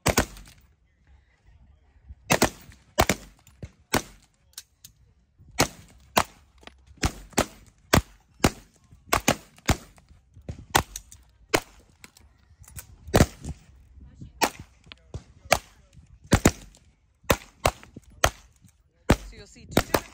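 Rifle shots fired on a stage of a women's team shooting competition, many sharp cracks at irregular intervals, some in quick pairs, spread across the whole stretch with faint talk between them.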